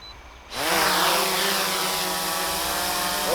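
An Autel EVO drone spins its motors up for takeoff, a sudden loud buzzing whine with rising harmonic tones that then settles into a steady, close, continuous drone.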